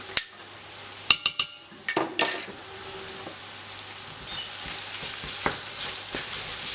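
Sausages with crushed spices sizzling in a frying pan, a few sharp clinks of a utensil against the pan early on, then continuous frying hiss with occasional scraping stirs.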